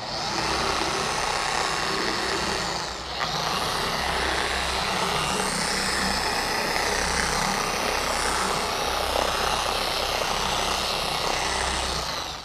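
A car polishing machine runs at a lower speed, spreading wax from a foam pad across body panels, giving a steady, continuous motor whir close by with a brief dip near the start and no talk.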